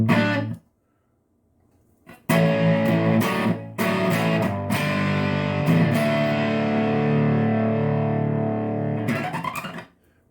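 Electric guitar played through a King of Tone overdrive pedal with its left side at full distortion, heavy sustained chords with brief silent gaps early on, loud and close, ringing out before a fade at the end.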